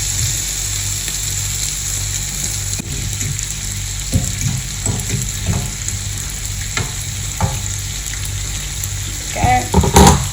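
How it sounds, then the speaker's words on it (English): Chicken pieces sizzle steadily on a hot griddle, a continuous frying hiss broken by scattered scrapes and clacks as pieces are turned, with a louder flurry of handling near the end. "I'm going to start turning these pieces of chicken over and see if the griddle is doing its thing"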